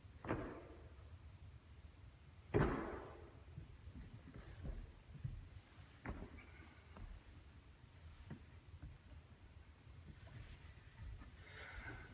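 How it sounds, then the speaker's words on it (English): Gusty wind buffets the microphone outdoors, with low rumbling bursts and a few sharp swooshes rising and fading over a quiet background. "It's getting windy."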